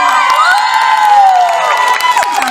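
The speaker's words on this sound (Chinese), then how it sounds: "再用最热情的尖叫声跟掌声" A loud audience at a year-end community gala concert cheers, screams and whoops over ringing stage sound, an excited crowd roar sustained throughout.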